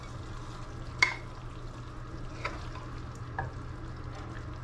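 A ladle scoops chicken and papaya coconut stew from a pot, with a few faint metallic clinks and soft liquid stirring over a quiet kitchen background.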